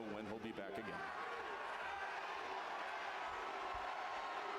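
A wrestling arena crowd at WWE Smackdown in Chicago, cheering for Randy Orton, holds a dense, sustained roar of cheers and chatter, heard from a broadcast with a voice talking briefly at the start.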